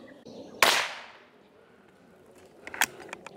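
A single sharp, close crack from a .22LR rifle fired over a chronograph rings out and decays quickly, followed by faint clicks and handling noise.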